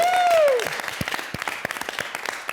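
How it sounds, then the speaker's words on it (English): An auction audience at a 50th anniversary event breaks into applause, a steady round of many hands clapping that follows a brief tone at the start and continues fairly loud to the end. "big round of applause, guys"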